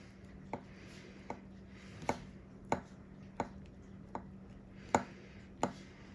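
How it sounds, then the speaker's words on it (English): A knife cutting the top off a baked vegan lava cake taps out about nine faint, evenly spaced clicks against the dish, quiet and close. "So she's trying to cut the top out."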